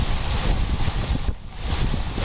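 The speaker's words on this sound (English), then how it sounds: "You can hear there's a waterfall coming up, and that'll be on the right behind this tree." A waterfall on the garden deck of Kukui Plaza in Honolulu gives a steady, broad rushing wash of falling water, continuous and fairly loud, with no talk over it.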